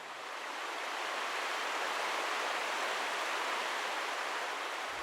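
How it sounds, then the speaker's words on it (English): Broad, steady roar of Blackwater Falls in West Virginia, water pouring off rocks in a constant loud wash that holds evenly throughout without pause. "just see all that water pouring off those rocks"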